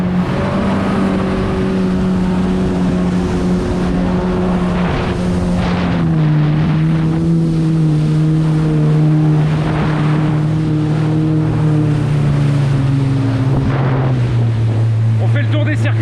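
Kawasaki STX 15F and Ultra LX 160 jet skis idle and rev on open water, a loud steady engine drone with pitch slowly sliding down, under heavy wind buffeting on the microphone and brief bursts of background voices.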